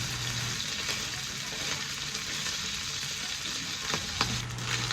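Palos (eel) sizzle in hot oil as the last batch fries, a steady, loud crackling hiss that runs throughout with a few small pops, and a voice talks faintly beneath.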